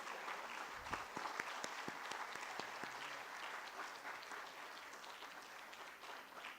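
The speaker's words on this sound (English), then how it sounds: "pay gratitude to them by clapping for them" Graduates at a university convocation ceremony applaud their parents, a steady, dense crowd clapping that fills the hall evenly throughout, with a few sharper nearby claps standing out early on.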